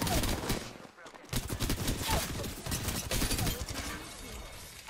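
Gunfire in the Apex Legends video game comes as dense bursts of rapid shots and impacts with short gaps, loud and close, with game effects mixed in.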